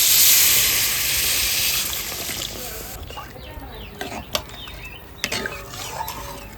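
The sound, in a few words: water added to sizzling kakrol curry in a pan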